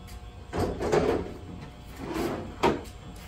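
A small drawer on a homemade DIY gardening cart is pulled open, giving two slow scraping slides followed by a short knock near the end, quiet and close, with no one speaking.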